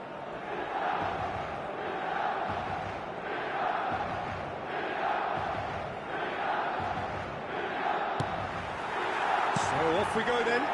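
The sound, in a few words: stadium crowd noise in eFootball video game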